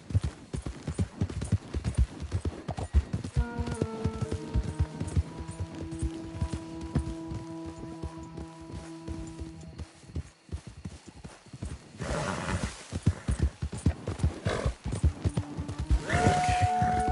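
A horse gallops in the video game Red Dead Redemption 2, with rapid, continuous hoofbeats close up under sustained musical tones and a brief whinny near the end.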